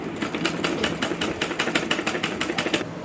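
A sewing machine stitches a heavy embroidered blouse in a quick, steady run of mechanical clacks, needle strikes repeating evenly at close range over a low motor hum, with no voices.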